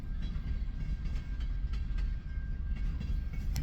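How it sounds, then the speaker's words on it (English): A train rolls past close by, a steady low rumble with rhythmic clickety-clack of wheels over rail joints and a faint high tonal whine, loud and continuous with no talking. "What a beautiful train."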